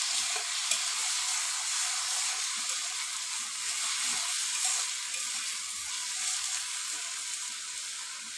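Onions and onion-garlic paste fry in a pan with a dense, continuous sizzle and scattered stirring scrapes, close and fairly loud, no voices.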